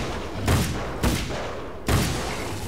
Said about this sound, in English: A gunshot to the head of that thing.